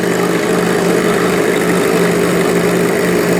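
An electric mixer whipping dalgona mixture into foam, giving off a continuous, loud, even motor whine with no pauses and no voices.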